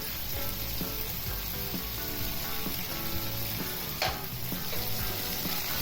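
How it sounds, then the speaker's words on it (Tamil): Mutton curry masala with drumsticks being stirred in a hot pan, a loud continuous sizzle with scraping, stirring movements and an occasional brief clatter, close by and without voices. "நல்லா கிளறி விட்டுட்டு"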